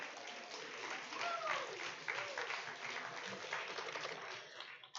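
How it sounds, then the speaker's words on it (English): A bar audience at an Astronomy on Tap event in Baton Rouge applauds the winners with sustained, moderately loud clapping, with faint voices and a few whoops mixed into the crowd noise. "So round of applause for our winners."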